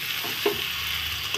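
Paneer and soybean masala sautéing in oil in a pan, giving a steady close hiss of frying with a couple of soft stirring scrapes.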